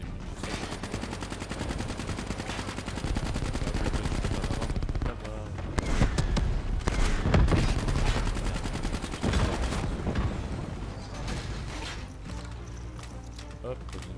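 Rapid automatic gunfire rattles almost continuously in Call of Duty: Black Ops 3, with dense bursts and sharp cracks. Players' voices talk over the fighting.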